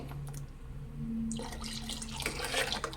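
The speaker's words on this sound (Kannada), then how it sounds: "ಅದೇ ಮಿಕ್ಸಿ ಜಾರ್ಗೆ ನೀರು ಹಾಕ್ಬಿಟ್ಟು ಹಾಕ್ತಾಯಿದ್ದೀನಿ" Water splashes and gurgles as it is poured into a mixer jar, starting quietly then growing fuller and louder, with no voices.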